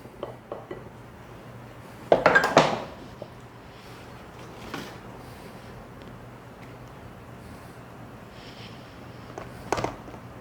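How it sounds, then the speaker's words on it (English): Apple banana pecan cake batter moved into a baking pan in a quiet kitchen, mostly clinks and scrapes of a utensil against the pan and bowl, with a louder clatter near the start and a few lighter taps later. "I'm going to take my batter and I'm going to actually put it in my pan"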